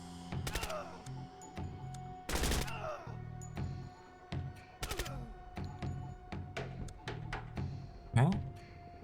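Video game gunfire crackles in loud, rapid automatic bursts and scattered single shots, rattling on and off in repeated volleys with brief gaps between them.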